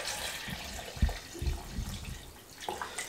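Water is poured into a blender jar, about a litre for a cucumber, mint and lime juice, heard as a short uneven splashing and gurgling with a few soft knocks, close and fairly quiet.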